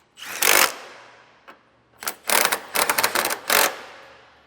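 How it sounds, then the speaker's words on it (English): A 19mm socket ratchet tightening the bolts of an EcoHitch hidden trailer hitch on a 2014 Toyota Sienna, loud close bursts of fast ratcheting clicks, one long stroke then a cluster of several quick ones, with no talking. "Then you can take a 19mm socket and get all your hardware snugged down."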